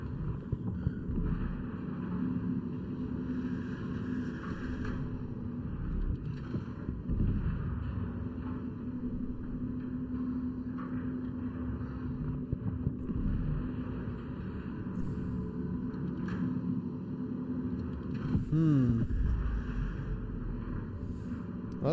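Steady wind blowing through the PlayDead video game Inside, a continuous low, rushing drone with slight swells and no pauses, with nothing spoken over it.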